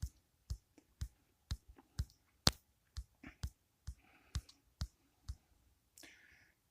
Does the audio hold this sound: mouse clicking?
yes